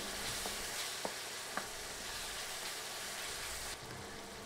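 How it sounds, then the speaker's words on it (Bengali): Ginger-garlic paste sizzles quietly in oil while a spoon stirs it, with a few light clicks of the utensil over a soft, constant fry that drops slightly just before the end. "আদা রসুন বাটা কিছুক্ষণ নেড়ে কয়েক সেকেন্ড ভেজে নিচ্ছি"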